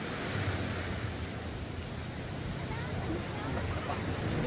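Water waves wash in a broad, constant rush with gusty wind noise on the microphone, while voices chatter faintly in the background.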